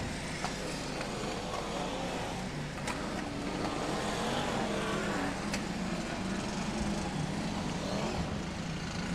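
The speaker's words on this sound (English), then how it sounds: "Paul Harrison in car number 2, and there he goes down the home straight" BriSCA Formula 1 stock cars racing on the Long Eaton oval in 1994, a dense, steady engine roar across the whole stretch with no clear single pass standing out, heard from trackside at a constant loudness.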